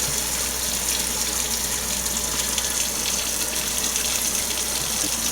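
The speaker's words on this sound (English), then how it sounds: "I'm just going to fill it almost up all the way so I can get a good swirl going in here" Water pours steadily into a jar to rinse sprouting seeds, a constant, close, broadband gushing that swirls without pause for several seconds.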